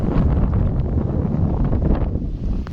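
Strong wind blows outdoors at a slingshot shooting spot, a dense, loud, buffeting roar against the microphone that continues steadily and eases slightly near the end.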